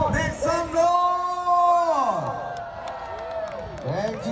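Loud whooping and drawn-out yells rise over a cheering crowd, swelling and fading in excited bursts.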